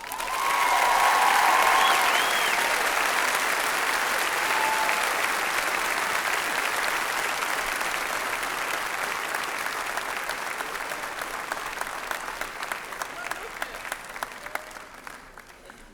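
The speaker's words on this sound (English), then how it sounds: "How about one more nice round of applause for these graduating seniors tonight?" A large crowd applauds graduating seniors at a high school commencement ceremony, loud sustained clapping that swells early, then gradually thins and fades toward the end.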